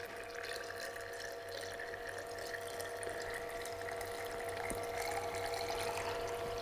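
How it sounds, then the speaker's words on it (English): Steady rushing water runs from a hose into a car radiator during a leak test, a continuous close flow with a faint hum beneath and no voices. "And now I'm planning to fill on this my radiator totally."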